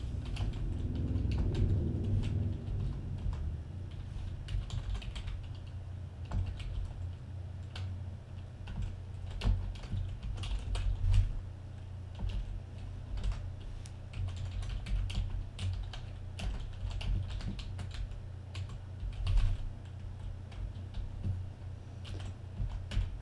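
Fingers type code on a computer keyboard, producing a steady stream of close, light key clicks with occasional louder taps over a low room hum, continuing for over twenty seconds without speech.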